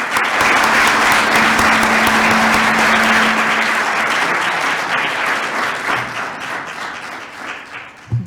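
After a talk at a scientific-technical conference, the audience breaks into loud sustained applause that gradually thins out and fades over several seconds.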